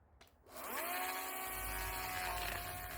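A blunt chainsaw revs up to a steady, loud whine while cutting into a clump of bamboo during division, the engine note holding constant and close throughout after a brief quiet start.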